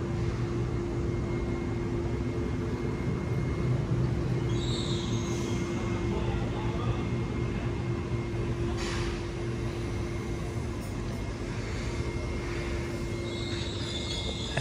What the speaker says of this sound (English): And there's the Kiama Picnic Train over there, which will be in some fashion racing to Kiama.